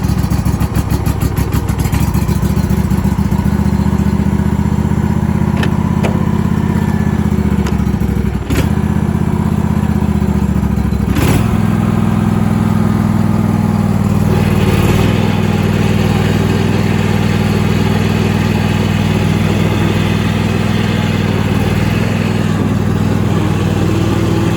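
An old Husqvarna engine cranks and catches, then runs at a loud, steady idle with a throbbing low drone and a few brief surges.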